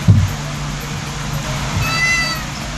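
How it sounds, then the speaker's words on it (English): A cat meows once, loud and close, with a short bright call at the start followed by a faint higher cry. "It's a cat."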